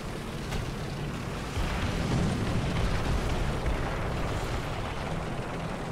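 Artillery shells exploding in a War Thunder tank battle, with a heavy, continuous rumble of blasts that swells into deeper booms partway through, loud and without talk.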